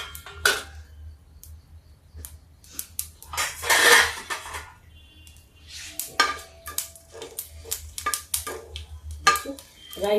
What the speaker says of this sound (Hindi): राई मेरी तड़क रही है।